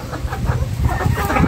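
Sonali and local chickens cluck together nearby, a flock producing repeated short clucks and murmurs in an uneven rhythm, with no talking over them.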